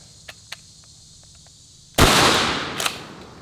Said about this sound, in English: Let's try a 12 gauge mini slug.